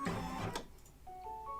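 An embroidery machine plays its short electronic completion melody after finishing an in-the-hoop bookmark design, a few clear beeping tones following a brief burst of machine noise.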